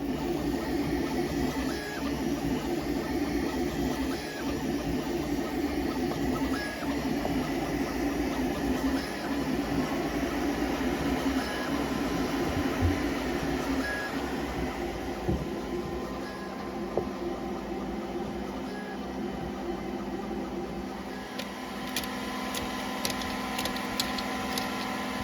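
A Creality K1 3D printer runs at high speed, about 600 mm per second, using Hyper Series filament. A dense, continuous mechanical whir with rapid stepper-motor whines is close and loud throughout, with brief clicking near the end and no talking.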